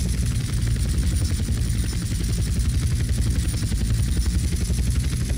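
An aircraft in the GTA San Andreas flight school video game gives a steady, loud, pulsing rotor-like drone that holds constant throughout, with no talk over it.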